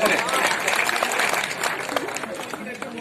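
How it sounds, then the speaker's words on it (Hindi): Audience applause welcoming a guest at a tournament grand final ceremony, a thick wash of clapping from a large crowd with some chatter underneath, starting strong and easing slightly. "एक जोरदार तालियों से इनका स्वागत करें।"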